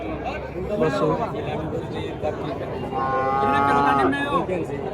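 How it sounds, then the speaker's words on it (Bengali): Several farm cattle, including Jersey cows, moo loudly at the Muktagacha cattle market, drawn-out calls overlapping one another, while people chatter in the background. "এখানে প্রচুর পরিমাণে ফার্মের গরু আছে"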